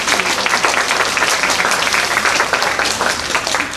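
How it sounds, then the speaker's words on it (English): An audience at a Friends of the Library gathering claps steadily in warm, sustained applause, a dense wash of many hands filling the room without a break. "So give yourself a round of applause."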